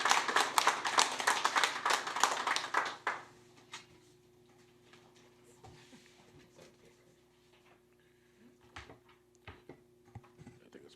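An indoor audience claps for about three seconds, a dense burst of applause after a federal minister's PSW tax credit announcement, then fades to quiet room tone with a few faint taps and shuffles.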